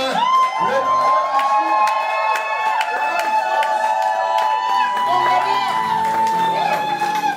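A lively wedding crowd at a nuptial blessing cheers and shouts with joy, voices whooping over a sustained, bright musical tone, loud and continuous throughout.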